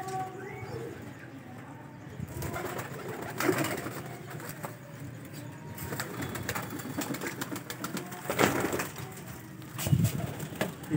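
Soft cooing from Royal Taddy pigeons comes in low, repeated calls amid shuffling and rustling, with occasional faint voices in the background.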